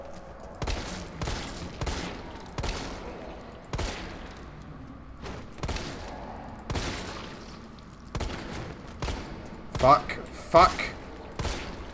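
Single gunshots crack out one after another in Resident Evil 3 Remake, about a dozen spaced, punchy shots at a steady pace, the last few louder, with a man briefly swearing between them.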